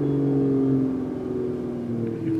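Engine of a 2019 Mercedes E53 AMG 4Matic after its drive mode is switched, a steady close-up hum with a slight rise and fall in pitch, running alone without talk.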